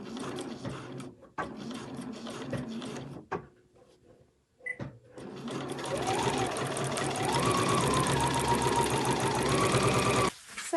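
Sewing machine stitching fabric panels together for a machine cover with back stitching, heard close up in several short bursts separated by brief stops, then one long continuous run of stitching.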